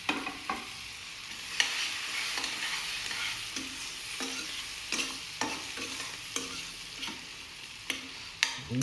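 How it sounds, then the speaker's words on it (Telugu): Onions, green chillies and coriander fry in a pan with a steady close sizzle, broken by irregular sharp taps and scrapes of stirring, with no talk. "మంచిగా బాగా వేపుకోండి."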